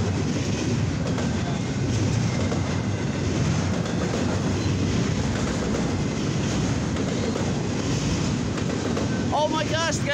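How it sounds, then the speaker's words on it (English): An eastbound CSX intermodal freight train passing in the late afternoon, a continuous loud rumble with clickety-clack of wheels and wind buffeting the microphone, and a voice briefly heard over the noise. "This is my fifth CSX train."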